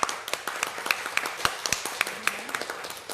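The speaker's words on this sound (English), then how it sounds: "I would like to ask us to give a big applause to Bill." Brief applause for a speaker at a talk, with a sparse scattering of distinct handclaps at fairly close range rather than a full, dense ovation.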